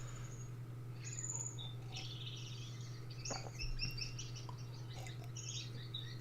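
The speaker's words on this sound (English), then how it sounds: "The more rattled bird is the parrot finch," A parrot finch sings a rattling song to its mate in a finch aviary, short chirps and trills rising over a constant low hum, moderately faint and without speech.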